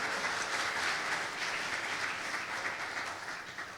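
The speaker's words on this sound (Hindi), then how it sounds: "यीशु मसीह के नाम से जोरदार तालियां खुदावंत के लिए।" A church congregation applauds during a Hindi-language sermon, a fairly quiet, sustained patter of many hands clapping steadily that fades slightly toward the end.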